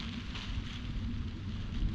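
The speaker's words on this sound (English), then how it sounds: "What a windy day." Steady gusty wind buffets the microphone outdoors during a fishing session, a low rumbling roar with slight surges, moderately loud and constant throughout.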